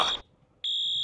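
A school fire alarm rings in loud, piercing electronic bursts: one blast, a short gap of silence, then the next blast starts and holds steady.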